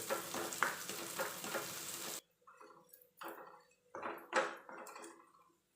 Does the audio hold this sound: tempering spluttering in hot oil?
yes